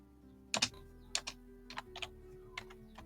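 Quiet, close keystrokes on a computer keyboard, a few short irregular bursts of typing while entering a search.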